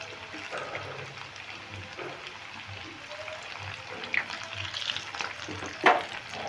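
Snacks of sooji and maida fry in oil in a pan with a soft, steady sizzle, broken by a few brief clinks and stirring sounds near the end.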